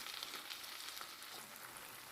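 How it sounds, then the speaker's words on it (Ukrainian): Peppers and tomatoes fry in a pan for a shakshuka-style skillet bake, making a steady, soft, close sizzle with crackle throughout and no voices. "Трохи підсмажились перці, додаю сюди ж помідори."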